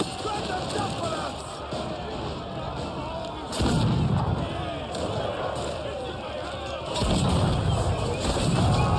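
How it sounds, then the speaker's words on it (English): Ship cannons fire in Assassin's Creed Black Flag during a naval boarding of a Spanish ship, heavy booming volleys bursting in at intervals over constant battle din and crowd shouting. "Cannons! Royals! Fire!"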